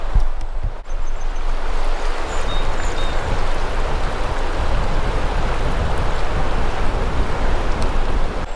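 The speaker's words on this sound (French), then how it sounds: "Le courant de l'eau, je te montre ça." River current rushing steadily at a riverside campsite, a loud continuous broadband wash of flowing water with no pauses.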